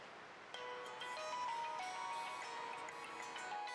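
A phone ringtone plays in a home scene of a Pakistani TV drama, a clear melodic electronic tune of repeating tones that starts sharply and rings steadily and moderately loud with no talk over it.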